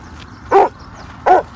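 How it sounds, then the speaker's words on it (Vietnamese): A dog barks at people walking past, two sharp, loud barks close by, spaced under a second apart over a quiet background. "Con chó nó đi theo mình nó sủa trời."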